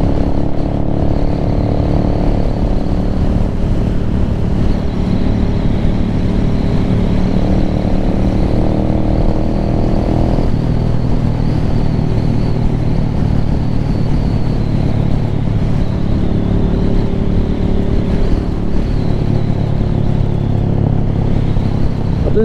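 A Venom Ghost Chopper 250 motorcycle cruises along a road, its engine giving a loud, continuous throbbing drone with gear shifts and steady wind rush throughout.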